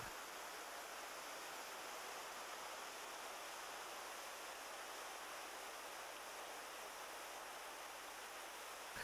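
Whitewater river rushing through the Yamna gorge canyon in the Carpathians, a steady, dense roar of churning rapids that stays loud and unbroken throughout, with no voices.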